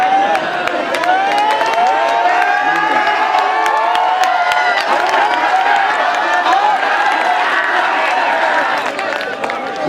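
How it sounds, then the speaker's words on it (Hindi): Audience at an All India Mushaira poetry gathering bursts into sustained, loud applause with cheering and whoops, a dense wash of clapping filling the whole stretch, with some voices shouting over it. "तो अनाउंसर साहब के नाम से ताली बजा दो"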